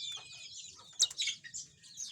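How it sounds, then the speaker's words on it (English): A domestic canary sings in a cage: bright, rapid high trills and chirps in bursts, with a sharp louder phrase midway, heard close and alone. "This is a canary."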